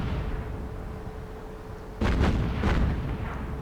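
Naval gunfire from a warship in a Pacific War battle near the carrier USS Hornet: after a low steady hum, a sudden loud heavy boom lands at two seconds, followed by a second rumbling blast and a lingering rolling roar.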